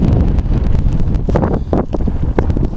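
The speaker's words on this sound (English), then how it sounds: "it's still windy, so that's nothing new" Strong wind on a hike near Ladybower in the Peak District, buffeting the microphone in a heavy, continuous roar with gusty surges and rumbling low-end bursts throughout.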